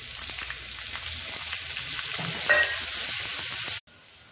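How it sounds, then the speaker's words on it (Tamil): Steady sizzling of chopped onions frying in a pan with occasional stirring scrapes, close and continuous before cutting off abruptly near the end. "வெங்காயம் நல்லா வதங்கிருச்சு."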